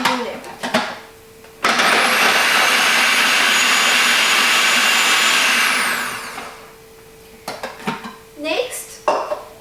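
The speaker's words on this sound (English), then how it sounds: "you're going to start off by taking your 2 cloves of garlic into the food processor" A food processor blends two garlic cloves in a single loud, steady whir lasting about five seconds, with the motor spinning up and winding down at the ends, bracketed by clinks and knocks of the bowl and lid.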